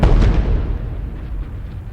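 A heavy penetrating bomb detonates in a single deep boom, loud and close at the start, then decays into a long low rumble.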